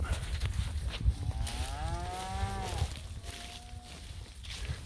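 A cow in a fenced pasture with her herd lets out a long, rising then falling moo, followed by a second, shorter and flatter call, over steady outdoor wind and rustling.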